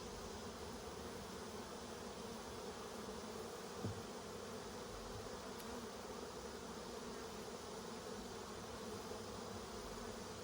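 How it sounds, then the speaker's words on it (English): A steady, dense buzzing of many honey bees around a hive box during a honey harvest fills the whole clip, continuous and fairly close, with no voices. "Hopefully there's not very many bees left in this box here."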